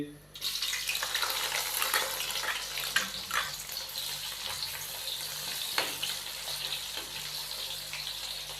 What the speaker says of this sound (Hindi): अभी हम इसके अंदर 2 अदद मीडियम साइज़ के प्याज बारीक कटे हुए शामिल कर देंगे